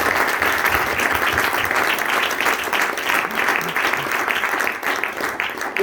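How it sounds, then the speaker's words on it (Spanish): Church congregation claps loudly during a Spanish-language sermon, a steady, close wash of many hands sustained for several seconds with faint voices beneath. "Denle palmas a nuestro Dios"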